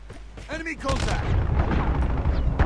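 Rapid bursts of Call of Duty Mobile gunfire crackle and boom continuously, loud and dense, with a voice talking briefly at the start.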